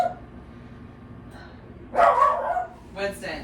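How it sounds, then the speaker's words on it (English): A dog barks a couple of times, sharp and close, after a quiet stretch with a brief spoken word; a shorter yip follows. "I think you might be barking at the cats on the front porch."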